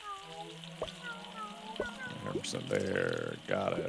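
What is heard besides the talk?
fried shrimp sizzling in fryer in Galaxy Burger video game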